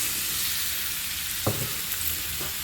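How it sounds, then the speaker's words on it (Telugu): Grated guava frying in ghee in a pan, making a steady close sizzle with a few soft stirring clicks and scrapes across a few seconds, no voices. "ఇది పచ్చి వాసన పోయేంత వరకు నెయ్యిలో వేయించాలండి."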